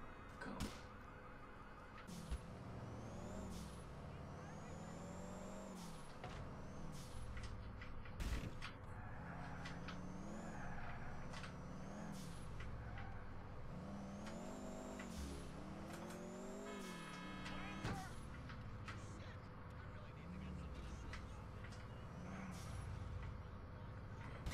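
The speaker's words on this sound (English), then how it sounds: "Traffic is my worst enemy." Dense city traffic in GTA IV: a steady wash of car and truck engines revving and passing, with air-brake hisses, horn-like tones and occasional tire squeals, continuous and fairly loud throughout with no talk.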